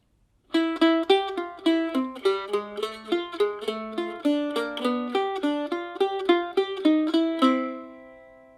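A mandolin plays a quick, lively tune alone, notes picked in steady rhythm, ending on a ringing final note that fades out.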